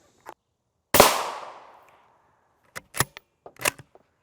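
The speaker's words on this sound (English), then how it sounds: "We'll take 4 of those shots, 2 of the M855s, and 2 M193s." Rifle shots of M855 and M193 rounds fired at Russian 6B43 Granit body armor ring out as sharp cracks: a faint pop, one loud decaying report, then a cluster of quicker, quieter bangs.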